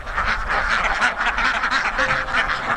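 Ducks on an open-field duck farm quack repeatedly in a loud, close, overlapping chorus that continues without pause.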